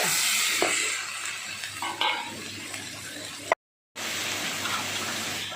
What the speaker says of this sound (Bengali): সয়াবিন দিয়ে আবার আমি সবজিগুলোর সঙ্গে ভালো করে নেড়ে নিচ্ছি